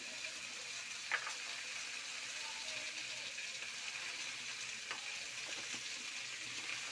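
Vegetables frying in a pan while being stirred, a soft steady sizzle with a few faint scrapes of the spoon, heard close but quiet.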